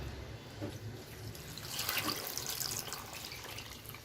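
Water pours steadily into a pot for South Indian sambar, a faint splashing stream that swells midway and then settles, with no voices.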